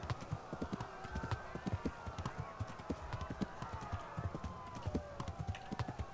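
Horse hooves gallop in a steady rapid clip-clop rhythm in Kingdom Come: Deliverance, a medieval role-playing game, moderately loud and continuous, with faint game sounds and a voice in the background.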